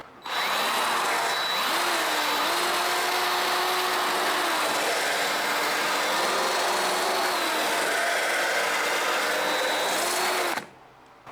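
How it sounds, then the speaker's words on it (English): A flap wheel grinder works homemade widebody overfender parts for a V-8 Celica GT-SS, a steady loud whine that rises and dips in pitch as pressure changes, running continuously for about ten seconds before cutting off. "Flapper wheels last a long time as long as you don't push too damn hard on them and you just let the sandpaper do the work"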